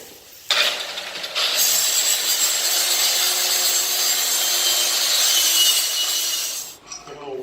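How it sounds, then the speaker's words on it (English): Stainless steel boat propeller being scrubbed and cleaned ahead of welding, a steady close abrasive rasping that runs continuously for about six seconds after a brief start, then cuts off. "We've got to prep the metal, which means try to get rid of whatever debris in the way and clean it for a weld."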